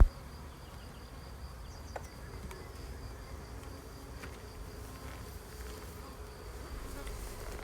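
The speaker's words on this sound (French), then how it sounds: "Le cadre est désormais complètement recouvert par les abeilles." Honey bees crowd a frame from a Swiss Lorenz hive, making a steady, close, low buzzing drone throughout, with a few faint clicks and knocks from handling.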